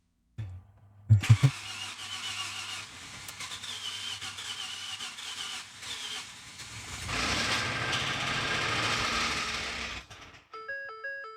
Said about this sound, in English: We are trying to start the car